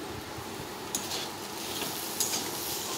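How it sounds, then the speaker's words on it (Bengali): A pan of potatoes and spices with chopped tomato sizzles softly as it is stirred, with a couple of faint utensil scrapes against the pan. "এবার আমি ভালো করে বেশ কিছুক্ষণ নাড়াতে থাকবো।"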